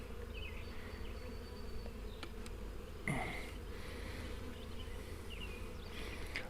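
A swarm of calm honeybees hums continuously around a propane tank outdoors, a dense close buzz with individual bees drifting nearer and away.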